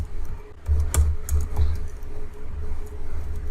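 Computer keyboard being typed on while entering a SQL create table statement, a quick run of soft clicking keystrokes over a low background hum, close and fairly loud, no talking.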